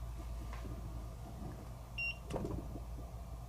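A magnetic sensor alarm fitted to a rifle gun safe gives a short, thin electronic beep, close and fairly faint, over a low steady background rumble with a couple of soft handling knocks.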